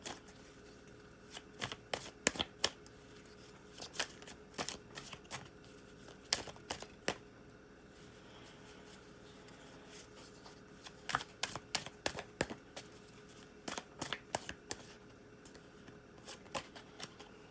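Tarot cards are shuffled in repeated crisp riffling bursts with short pauses between them, close and quiet against a soft room background.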